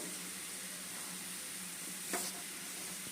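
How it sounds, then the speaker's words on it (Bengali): Water heating to a boil in a pot for rice-flour pitha dough, a steady dense hiss and bubbling with one brief faint knock partway through. "আর জলটা এখানে ভালোভাবে ফুটতে দিতে হবে"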